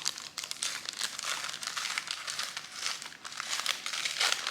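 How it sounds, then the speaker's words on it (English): Brown paper wrapping on a small Advent calendar package is unwrapped, with close, continuous crinkling and crumpling in irregular bursts. "today is a lovely little brown paper package."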